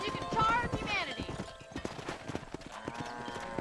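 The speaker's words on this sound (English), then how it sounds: "Control that horse, will ya?" Horse hooves clip-clop in Red Dead Redemption as riders herd cattle, a steady patter of hoofbeats with a brief whinny near the start, heard under spoken dialogue.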